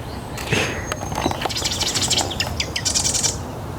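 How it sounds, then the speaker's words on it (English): A marsh wren sings outdoors in a run of rapid, sharp chattering notes and trills that repeat over several seconds against background noise. "Obviously a marsh wren, Hazel."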